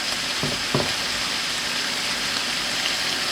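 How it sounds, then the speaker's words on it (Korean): Shrimp, asparagus and mushrooms stir-fry in a hot pan with a loud, dense, rain-like sizzle throughout, broken early by a couple of quick scrapes of the spatula. "같이 볶아주세요"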